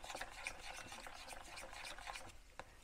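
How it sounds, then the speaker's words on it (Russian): A spoon or whisk stirs a lump-free mixture for Polish mushroom soup in a home kitchen, a steady run of soft scraping and wet swishing strokes close by with no talking. "И теперь нам это все надо перемешать без комочков. Можно взять венчик, можно ложкой."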